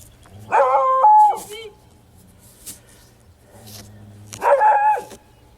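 A dog barks near a field while someone searches with a metal detector. Two loud, short clusters of barks come a few seconds apart with faint background noise between them.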